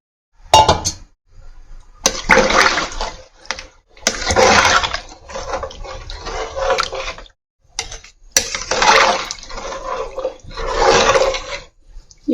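Water poured from a vessel into a pot for Tamil Nadu-style mutton biryani, measured for half a kilo of rice; several separate bursts of splashing pouring with brief pauses and clinks between them, close and fairly loud, no talk.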